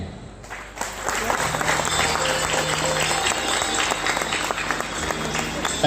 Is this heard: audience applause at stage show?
yes